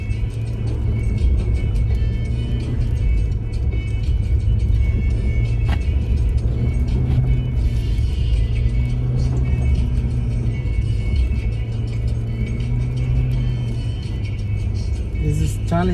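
A car driving on a snowy road during a snowstorm, giving a steady, loud low engine and tire rumble from inside the cabin throughout, with faint clicks and rattles on top.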